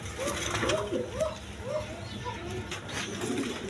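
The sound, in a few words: pigeons cooing, German Beauty pigeons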